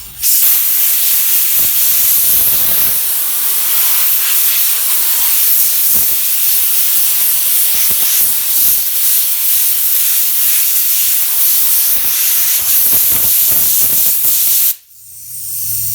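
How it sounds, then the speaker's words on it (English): A loud, sustained hiss of compressed air sprays continuously at close range onto a mosaic table top, cutting off abruptly near the end. "So I'm just going to spray some air."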